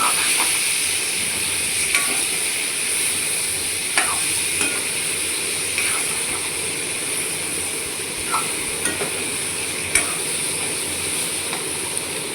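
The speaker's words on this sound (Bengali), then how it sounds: "ভালো করে কষিয়ে নিচ্ছি" Eggplant and jackfruit seeds fry in an oiled pan with salt and turmeric, a steady close sizzle running throughout, broken by occasional light clicks and scrapes of stirring; no one speaks.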